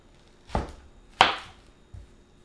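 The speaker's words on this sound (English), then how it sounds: "I'm just gonna go and start chopping" Three separate knife chops through an onion on a cutting board, each a sharp close thud-crack, the second loudest, spaced unevenly with quiet pauses between and no talk.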